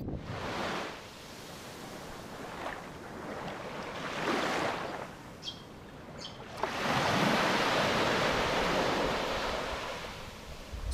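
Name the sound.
water and gentle breeze in a bay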